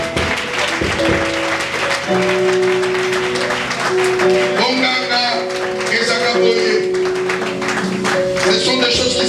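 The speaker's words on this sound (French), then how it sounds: "Est-ce qu'on peut applaudir la victoire?" A church congregation claps during a Sunday worship service, the applause fairly light and mixed with sustained tones from instruments or singing, a voice speaking over it.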